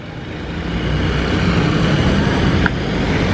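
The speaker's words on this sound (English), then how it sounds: "So Christian is driving. The bone stock PHDM B13." Steady, loud engine and road noise from inside a bone-stock Philippine-market Nissan B13 driving along the expressway, a continuous broadband rumble with no talk.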